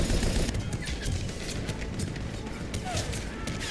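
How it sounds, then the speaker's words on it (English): Steady exchange of gunfire in Mass Effect 3, a dense crackle of shots running throughout with talk mixed underneath. "there's so many people shooting at you"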